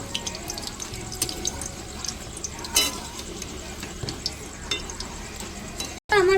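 Bakery-style chicken patties dropped into hot oil to deep-fry, bubbling and sizzling up close with stirring clatter, a brief sharp burst near the start, and faint talk in the background.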